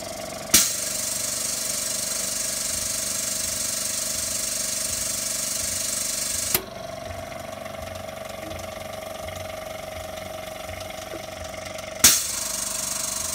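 A hydraulic lift table rising under valve control, giving a steady mechanical hum and hiss with sharp clunks as it starts, as the valve changes over midway, and again near the end.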